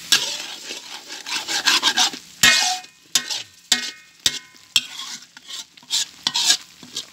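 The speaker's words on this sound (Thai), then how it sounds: "กะทิเขาเรียกกะทิแตกมันเลยแป๊ะอย่างเงี้ย" Coconut milk boils with curry paste for chicken curry while a utensil stirs and scrapes the pot, making repeated close scraping strokes and knocks over a bubbling sizzle.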